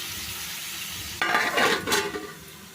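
Raw shrimp stirred in a pan for a Telugu prawn curry, a steady faint sizzle jumping to a louder, busier frying hiss with scraping and stirring midway, with no talking.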